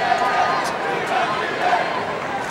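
Large tennis crowd at an Agassi versus Rios semifinal at Key Biscayne, with Chilean supporters chanting and cheering; a steady, loud roar of many voices with rhythmic shouted bursts throughout.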